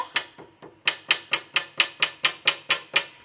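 A hammer strikes the spine of book signatures held for backing in bookbinding, about fourteen sharp, evenly spaced taps, close and fairly loud, with quiet gaps between blows and no talking.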